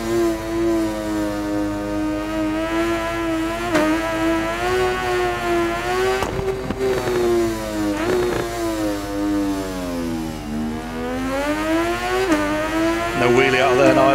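A 2019 MV Agusta F3 675 racing at Kanto South in the video game RIDE 4: a loud, continuous engine note that climbs and falls in pitch through repeated gear changes and corners.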